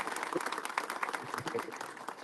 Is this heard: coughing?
no